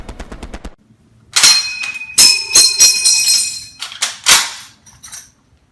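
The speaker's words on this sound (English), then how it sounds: "Here I will demonstrate the M1's full reloading cycle using fake ammunition." An M1 Garand rifle cycled through a full reload with dummy rounds: sharp metallic clacks and clangs of the bolt and clip, a bright ringing ping, then more rattling slams, close and loud with no talk.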